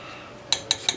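A spoon knocks three quick times against a pot of cabbage soup while pepper is stirred in, close and crisp after a moment of quiet.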